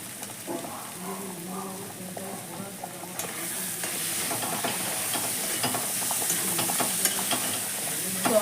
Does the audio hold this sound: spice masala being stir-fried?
yes